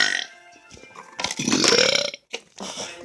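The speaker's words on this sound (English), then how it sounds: "it's your turn to burp" A loud, drawn-out burp during a friendly burp contest between two young guys, rising in the middle of the clip with a croaking, rumbling tone, followed by a short second belch.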